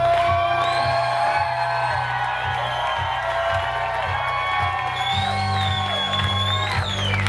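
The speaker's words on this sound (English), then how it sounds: "One more round of applause." Wedding guests cheer and whoop loudly for the bride and groom, a sustained crowd roar with scattered claps and shouts over music playing in the reception hall.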